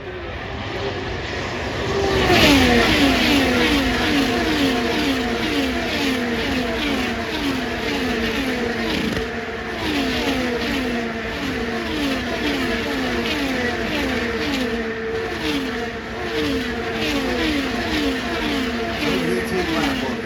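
IndyCar race cars screaming past at the Indianapolis 500, high-revving engines whining and shifting in repeated rising sweeps, several cars running wheel to wheel, loud and continuous, with a commentator talking over them.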